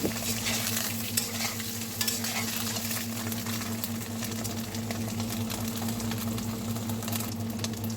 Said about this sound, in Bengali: ডিমগুলো ভালো করে নাড়াচাড়া করে গোলাপি হয়ে আসলে আমি ডিমগুলো আস্তে আস্তে উঠিয়ে নেব